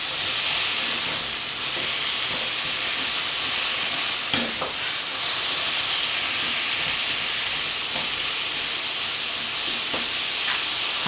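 Potatoes fry in oil in a non-stick pan with a steady, loud sizzling hiss throughout, with a few soft knocks and scrapes of stirring and no voices.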